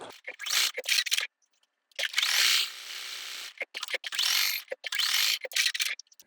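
Juki DX7 sewing machine running a buttonhole satin stitch, close bursts of fast mechanical whirring and clicking separated by short pauses, with no talking.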